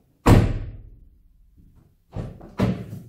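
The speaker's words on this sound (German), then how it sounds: "Dann geht auch die Tür zu." Door of a Hyundai Kona Elektro shutting: one solid slam up close, then a pause and two quicker thuds as it is pushed closed again, with no talking.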